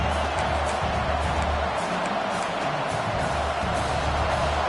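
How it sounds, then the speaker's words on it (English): A large crowd roars continuously at a distance, a broad sustained wash of cheering without distinct voices standing out. "Listen to the crowd energy here in the early going."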